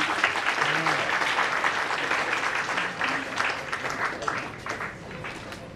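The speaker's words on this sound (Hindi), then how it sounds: "अभी तक टैक्स नहीं लगे तालियों पे हम बजा सकते हैं" Dense applause from an audience at a Hindi awards and poetry event, steady sustained clapping filling the whole stretch, with faint voices mixed underneath.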